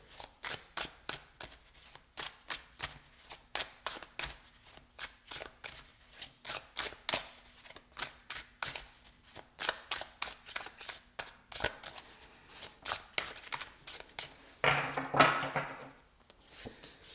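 Tarot cards are shuffled over and over in steady riffling bursts, close and fairly quiet, with a brief rustling flurry near the end and no voices.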